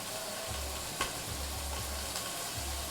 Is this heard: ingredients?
yes